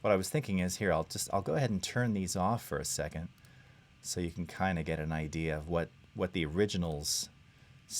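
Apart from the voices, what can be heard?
No everyday noises stand out.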